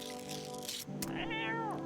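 A pet cat gives a single close meow that rises and falls in pitch, heard over a steady background hum with a brief click just before it.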